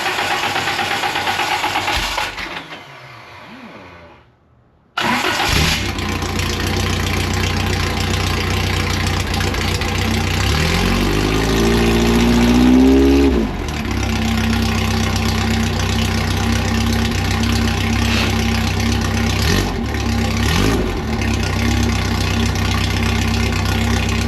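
A car engine cranks after the ignition is switched on, catches, then runs in a loud, steady idle with some knocking and a brief rise in revs.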